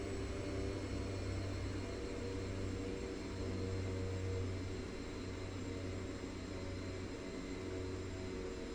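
Seaplane engine in the X-Plane flight simulator, a steady low droning hum that dips slightly as the throttle eases back, constant and moderately loud.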